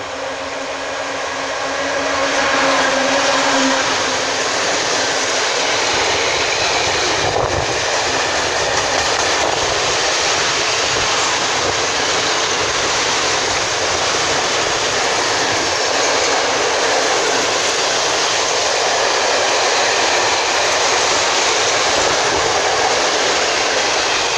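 A passenger train pulls into a station in Strzelce Opolskie. Its loud, broad rumble and rushing roar fill the whole scene close by and hold steady, with no voices.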